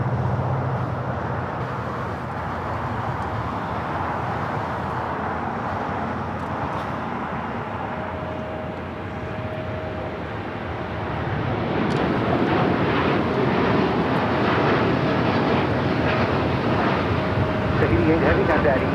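An Air Tahiti Nui Dreamliner rolls down the runway at LAX on its takeoff run to Paris; a distant engine rumble swells louder partway through, under intermittent talk.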